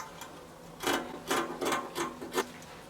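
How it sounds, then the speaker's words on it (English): Scissors cutting the front neckline of Ankara fabric, a quick run of five or six crisp rasping snips close by, with no talking. "we'll go ahead and cut out the front neckline"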